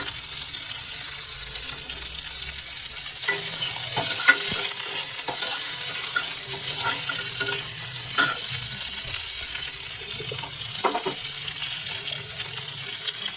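Broccoli and capsicum are stir-fried in a pan for Maggi noodles, giving a continuous sizzle with repeated scraping and clinking stirs of a spatula. The sound is close and moderately loud, with no talk.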